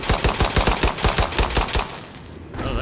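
Rapid, evenly spaced volley of about ten loud gunshots fired in the video game Nightingale, a rhythmic burst that stops abruptly and gives way to quieter ambience.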